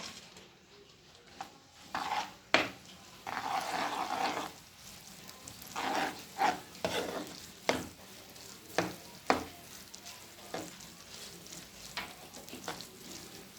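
Almonds are stirred in a hot pan with desi ghee for chikki, giving a soft sizzle broken by a series of scraping stir strokes at irregular intervals, close by and moderately quiet.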